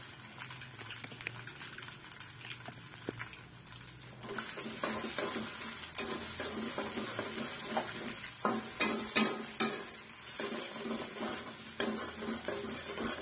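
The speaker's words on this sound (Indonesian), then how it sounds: "Aduk-aduk biar enggak gosong ya." Seasoned seblak crackers are stirred in a pan while their coating cooks dry, giving a steady sizzling hiss with scraping and clattering that grows busier and louder partway through, with no speech.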